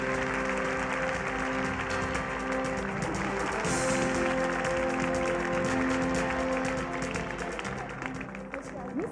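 At the 1998 Kral music awards ceremony, a large audience applauds as a theatre artist is invited onstage; steady crowd clapping runs throughout, mixed with sustained music tones and some voices underneath.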